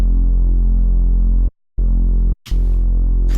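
A loud, thick, sustained Serum reese bass synth with a gritty distorted buzz, drive a little over halfway, cutting out briefly twice before resuming with added high noise.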